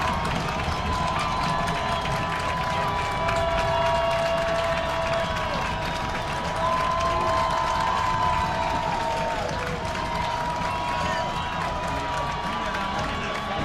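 A large high school football stadium crowd roars and cheers continuously before a two-point conversion, a dense sustained wall of noise with swelling shouts and no break.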